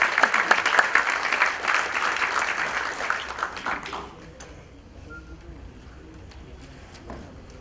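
Audience applause for Dr Jayesh Patel at a talk, a dense clapping crowd that fills the first four seconds, then thins to scattered, softer claps as it dies away.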